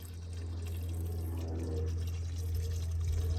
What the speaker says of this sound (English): it's like an old farming water pot that they've cut the top off and repurposed into a little water fountain